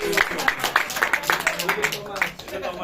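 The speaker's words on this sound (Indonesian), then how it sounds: "Mari kita tepuk tangan." A church congregation at a worship service claps along in a steady rhythmic beat, roughly two claps per second, with voices talking and calling over the clapping.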